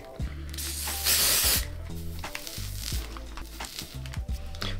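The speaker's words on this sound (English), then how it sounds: "Just gotta spray some hairspray." Hairspray sprays onto a styled 7x6 wig in a long hissing burst, followed by shorter spritzes, close and fairly loud, with faint music underneath.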